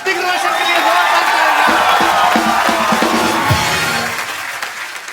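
Loud applause and cheering from a studio audience at a comedy show, with whoops and babble of voices that fade slightly toward the end.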